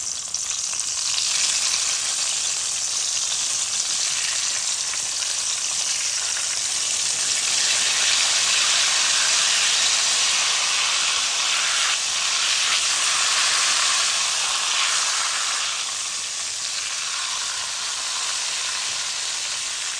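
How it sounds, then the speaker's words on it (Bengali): Eggplant slices fry hard in oil over a high flame for Saraswati puja begun bhaja, a dense, loud, continuous sizzle and hiss with small swells and no voices. "এখন আমি হাই ফ্লেমে বেগুনগুলাকে উল্টিয়ে পাল্টিয়ে ভেজে নেব।"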